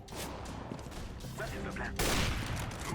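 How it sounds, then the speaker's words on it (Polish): Rapid gunfire in Counter-Strike: Global Offensive crackles through a busy game soundscape, with a louder sharp burst of shots near the end. "No tutaj normalny strzał."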